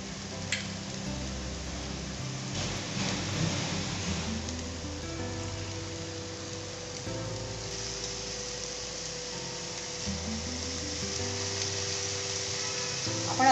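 Okra bhaji with coconut sautéing in a pan over a low flame, a soft continuous sizzle with occasional stirring scrapes under background hum, no talking.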